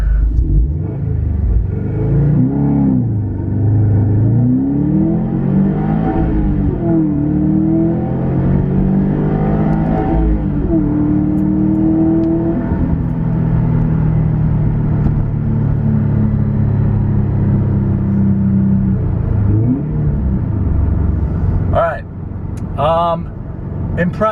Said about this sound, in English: Track mode, here we go. 0 to 60.